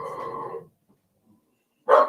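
A dog barks twice, separated by a pause of more than a second: first a longer, drawn-out bark, then a short, sharp one, both fairly close against a quiet background.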